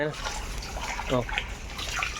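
Water pours from a hose into a fish tank, a close splashing trickle under a person talking over it.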